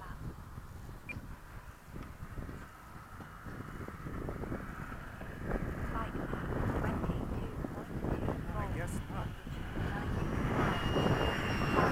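BAE Hawk jet aircraft flying in formation at sunset, a sustained engine roar mixed with wind buffeting on the microphone, building gradually louder over time while a voice talks underneath.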